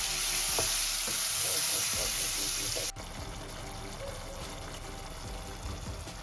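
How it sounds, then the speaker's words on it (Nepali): Masala with tomato puree sizzles steadily in a pan, a broad hiss with light stirring clicks, dropping slightly in level about halfway through as the frying continues alone. "यो मसला राम्रोसँगले भुटेर आयो।"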